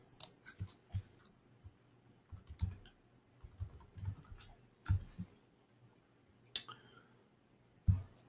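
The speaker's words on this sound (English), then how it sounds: "Okay, everybody stop typing, please." Several people typing on computer keyboards during a trading class, in bursts of sharp clicks with sparse, uneven keystrokes spread across the stretch, fairly close and moderately loud, with no voices.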